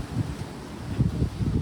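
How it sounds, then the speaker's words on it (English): Gusty wind outdoors on a cold January morning beside a trailer, buffeting the microphone as a low, uneven rumble that swells in several bursts, with no one talking. "Nice windy January morning."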